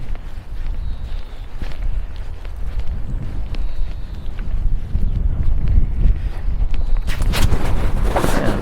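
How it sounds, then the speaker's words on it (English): Gusty wind blows outdoors through a Wiltshire village, a steady broad rush with louder buffeting near the end, alongside faint footstep-like scuffs close by. "And the wind is picking up in speed, as forecast for today again."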